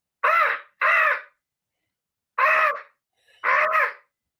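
A person imitates a crow, giving four loud, harsh caws in two pairs, close and with nothing else heard between them.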